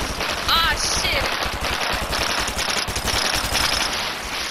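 Rapid automatic fire from a golden gun in the video game Fortnite, dense and loud, with a continuous stream of shots and brief voice exclamations mixed in.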